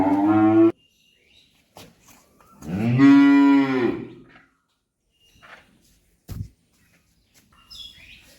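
Cattle on a dairy farm low loudly in two clear moos, one short and one long and drawn out, with quieter pauses and a few faint bird chirps between.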